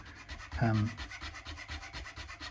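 A Hosco nut slot file rasping through the nut slot on a Squier Affinity Strat, heard as a soft, close rubbing. Short scraping strokes repeat in a steady rhythm, and there is no talk.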